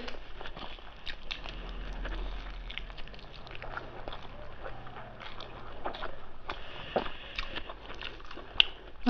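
Someone eating rice with chicken curry, close soft chewing and wet mouth sounds with occasional crunchy bites, fairly quiet and continuous, with a brief voice now and then.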